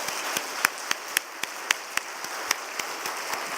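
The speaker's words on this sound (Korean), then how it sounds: "다시 한번 격려 박수 하겠습니다" Church congregation applauding at a Wednesday service, a steady wash of many hands clapping with a few sharper claps standing out at fairly regular intervals, moderately distant.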